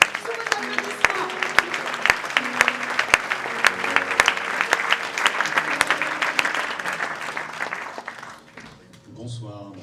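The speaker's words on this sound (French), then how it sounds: "Sous vos applaudissements." Sustained audience applause at a film festival closing ceremony, dense and steady for most of the clip before tapering off near the end.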